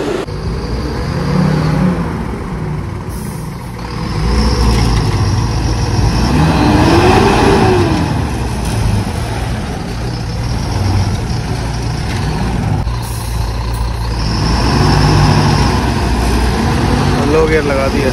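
A Mahindra truck, a 2018 or 2019 model, runs its diesel engine on a construction site with a steady loud rumble that swells and eases, while people talk over it.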